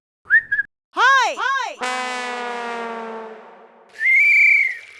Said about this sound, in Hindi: विसिल।